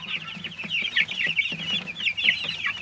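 Eleven-day-old white broiler chicks, hungry at freshly poured feed, cheep in a dense, continuous chorus of high peeping and soft clucking, close up and without any talking.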